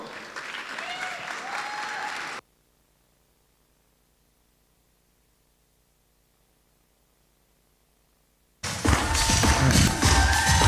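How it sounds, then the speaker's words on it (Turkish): Stage audience applause at a makeup training event, a dense burst of clapping that cuts off abruptly into near silence, then resumes loudly after several seconds. "Big applause please. Kocaman alkışlar."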